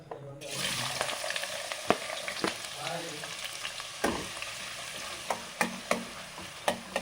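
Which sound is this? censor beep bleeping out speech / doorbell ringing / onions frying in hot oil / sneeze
onions frying in hot oil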